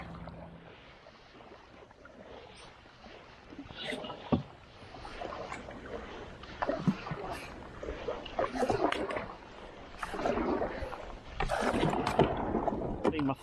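A kayak paddled on open water near Sunken Island, with irregular splashes and gurgles from the paddle strokes, some wind buffeting and occasional voice, close to the microphone.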